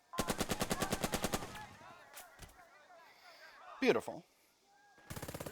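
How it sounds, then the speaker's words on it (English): A machine gun in the wartime strategy game Burden of Command fires a rapid, evenly spaced burst up front, then a second burst at the end. A short spoken remark and scattered game sounds fill the gap between bursts. "And then we'll take some shots at this squad."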